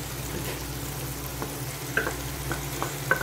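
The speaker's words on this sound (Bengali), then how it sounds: "এখন আমি এর মধ্যে পেঁয়াজ আর টমেটো পেস্টটা দিয়ে দিব" Onion and tomato paste frying with ginger and garlic in a quail curry produces a moderate, even sizzle with occasional soft stirring taps and a couple of light clinks; no one talks.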